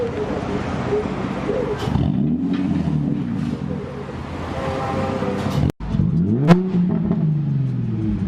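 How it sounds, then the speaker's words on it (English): A Nissan 350Z fitted with blast pipes revs up close by, engine rising and falling in deep roaring pulls, with a sharp cut and another rev near the end. "It's deeper, bro. It sounds way better. They got rid of the rasp."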